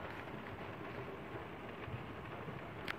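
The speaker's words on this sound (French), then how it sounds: "Énorme orage." A strong thunderstorm drenches Villers-Bocage in June, a continuous roar of heavy rain with a faint low rumble beneath and no pauses, no one speaking.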